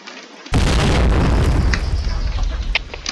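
A loud, close grenade blast in a first-person shooter game, a sudden booming burst that cuts in and then rumbles on with crackling debris and a few sharp pops as it fades.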